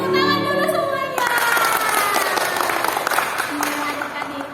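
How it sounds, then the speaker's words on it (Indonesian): Children clapping together at a Saturday church kids' gathering, a steady dense patter of hands that follows a sung or spoken tone and carries on for several seconds, fairly loud and close, with voices mixed in. "Ya, tepuk tangan dulu semuanya."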